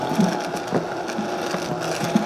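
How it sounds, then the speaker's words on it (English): A stick blender whirs steadily through pesto at close range, a constant motor drone with slight rattling pulses from the blade working the mixture. "here's my processing stick"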